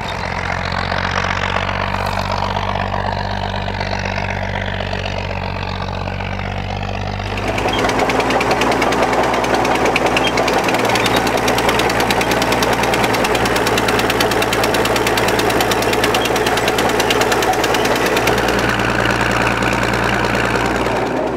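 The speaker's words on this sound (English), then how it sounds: "the slow revving D8E's distinctive exhaust note can really be appreciated as it pulls up this" A heavy Caterpillar D8E crawler's diesel exhaust chugs steadily at low revs while pulling uphill, growing louder and harsher partway through as it labours under load.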